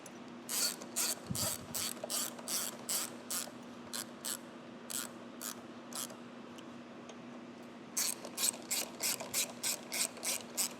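A hand ratchet tightens screws on the sprocket of a 2014 Harley-Davidson Street Bob motorcycle, crisp repeated clicking strokes in two bursts with a brief pause between, close and alone over a faint steady hum.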